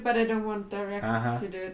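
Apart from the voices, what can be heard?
No everyday noises stand out.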